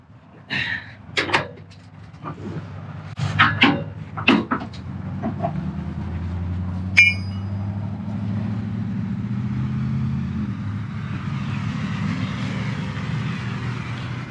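The storage compartment in the Ali Arc bumper of a 2021 Kenworth T880 tow truck with an NRC wrecker body is opened outdoors, making several close clunks and latch knocks, then a sharp metallic click over a steady low engine idle.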